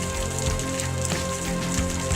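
Heavy rain pours down steadily during a thunderstorm, a dense, loud, continuous wash of drops on surfaces with no voices.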